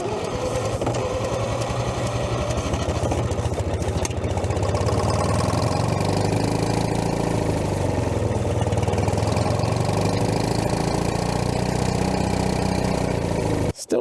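An old Allis Chalmers crawler engine, left sitting for years, cranks over and over in a fast, steady rhythmic churn without catching, loud and close, with no talk.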